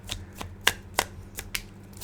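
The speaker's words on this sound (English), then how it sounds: "Let me put some back and shuffle it again." A deck of tarot cards being shuffled by hand, a run of quick papery riffles and snaps in uneven bursts, close up and fairly loud, with nobody speaking.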